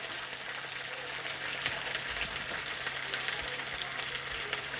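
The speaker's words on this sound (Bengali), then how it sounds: "এবার এটা ভাজা ভাজা হয়ে গেছে" Capsicum and other vegetables fry in a pan for chilli chicken, a continuous close sizzle with faint crackles and occasional stirring clinks, no voices.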